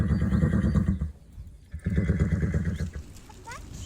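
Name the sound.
horse whinnying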